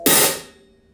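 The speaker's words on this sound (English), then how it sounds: "or a hi-hat sound like this." A single bright metallic hi-hat cymbal hit with a sharp onset, ringing briefly and fading out within the second.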